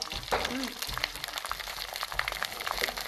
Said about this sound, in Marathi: तर चला आता मी घेते हे तळून